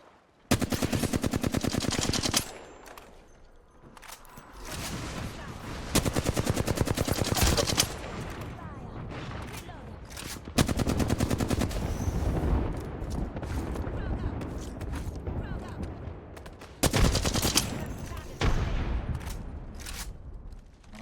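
Automatic and rapid gunfire in the video game Apex Legends, loud bursts of machine-gun fire and single shots repeating across the scene, with a faint voice now and then underneath.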